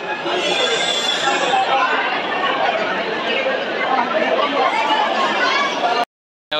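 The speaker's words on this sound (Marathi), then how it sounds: "संडे आहे त्यामुळे गर्दी भरपूर आहे" Dense Sunday crowd chatter at Jivadani temple on a hilltop, many overlapping voices forming a steady loud murmur close around, continuous until an abrupt cut near the end.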